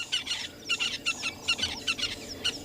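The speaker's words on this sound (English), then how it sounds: "The dawn chorus has arrived" Repeated bright chirping bird calls in quick bursts, several birds overlapping in a lively dawn chorus in the African bush, with no talking.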